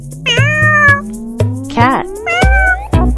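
A cat meows repeatedly and loudly close by, giving several drawn-out, wavering meows in quick succession.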